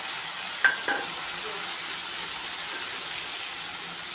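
Chopped banana flower (mocha) goes into a spice mix frying in oil and is stirred, for a vegetarian Bengali mocha dish. A steady, moderate sizzle runs throughout, with a couple of sharp utensil clinks near the start.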